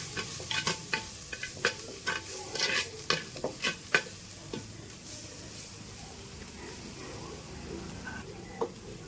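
Coriander powder is stirred into egg biryani in a clay pot over a wood-fired stove, a quick run of scraping spoon strokes and light sizzling in the first half, then a quiet low simmer with one last scrape.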